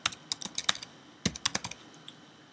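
Typing on a computer keyboard while entering a website address: a close, quiet series of quick key clicks in two short bursts, alone without talking.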